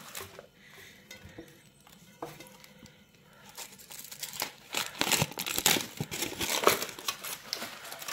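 Baking paper crinkles and rustles close by as freshly baked, still-hot food is peeled off and laid in a tray, starting soft and growing into busier, louder crackling.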